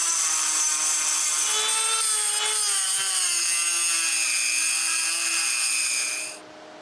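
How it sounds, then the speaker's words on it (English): A Dremel rotary tool grinds a larger opening in metal during a CNC machine build, giving a close, continuous high whine whose pitch drifts as the load changes before it cuts off just before the end. "I use a Dremel to make a bigger opening."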